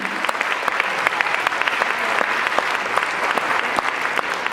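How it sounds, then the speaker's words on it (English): Audience applause at a spring college convocation welcoming new full-time staff: dense, steady clapping from a large crowd, loud and continuous throughout with individual sharp claps poking out. "Let's give a round of applause for all of our new full-time people joining the community."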